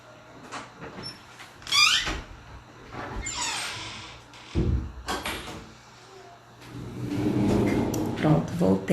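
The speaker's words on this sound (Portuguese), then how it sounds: "Só um minutinho que eu vou fechar a porta aqui." An indoor door swings shut with creaks and squeaks, then a solid thud, followed by handling and rustling noises nearby.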